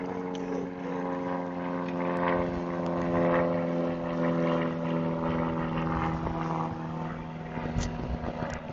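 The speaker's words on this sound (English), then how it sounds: "Not sure if you can hear the plane right above us" Propeller airplane flying right overhead on a golf course, a loud steady droning hum with strong tonal bands that holds for several seconds with no talk.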